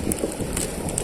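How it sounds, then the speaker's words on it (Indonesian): Strong seaside wind buffeting the microphone with a continuous loud rumbling roar, unbroken for the whole moment with a few soft gust peaks. "ini anginnya nih kencang sekali nih ya"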